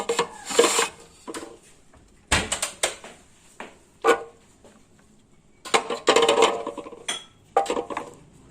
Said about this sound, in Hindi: लहसुन और अदरक का पेस्ट बना लेंगे।